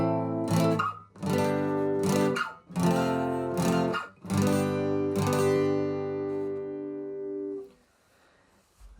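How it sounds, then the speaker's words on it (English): Acoustic guitar chords for a song, each chord given two firm down strums in a steady rhythm, close and bright, ringing out and fading at the end with no voice. "Now to begin with, you can just do them as down strums, 2 down strums per chord, which sounds like this."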